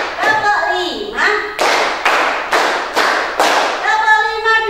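Five crisp unison hand claps from a fifth-grade class at an Indonesian primary school land at an even pace, framed by the children's chanting before and after.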